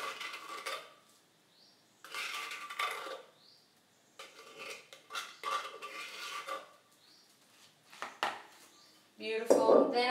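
A spatula scraping out a mixing bowl of Thai mango salad, with repeated bursts of close scraping and clattering separated by short pauses.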